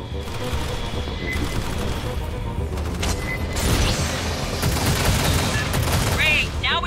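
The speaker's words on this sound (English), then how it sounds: "Must have heard the gunfire!" Rapid bursts of gunfire crackle continuously in a sci-fi shooter game, dense and loud, with occasional heavier booms layered over a busy game-like background.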